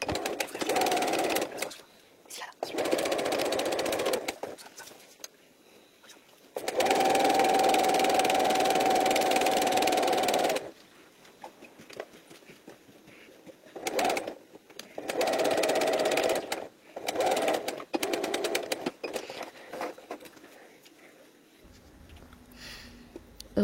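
A sewing machine stitches a fabric pocket on a belt bag with a zigzag stitch, running in loud steady bursts of rapid mechanical whirring separated by short pauses, close up and alone.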